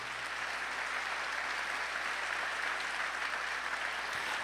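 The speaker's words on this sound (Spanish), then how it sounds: "Démosle un fuerte aplauso al Señor." A church congregation claps for the Lord in a steady, even wash of applause lasting several seconds, heard at a distance over a low hum.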